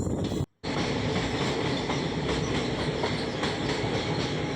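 A passenger train runs on the Guwahati–Silchar hill line through the Dima Hasao hills, heard from on board. A continuous close rumble carries faint clickety-clack, broken only by a brief dropout near the start.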